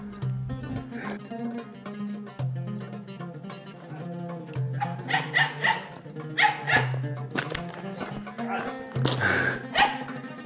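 A dog barks and yips in short bursts in the later half over a steady musical background, close and fairly loud, with talk mixed in.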